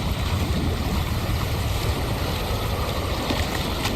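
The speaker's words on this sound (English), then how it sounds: "That's a really big waterfall." A big rushing waterfall in the video game Wuthering Waves gives a steady, dense roar of falling water that fills the whole stretch without pause.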